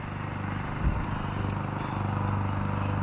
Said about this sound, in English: there's always somebody mowing the lawn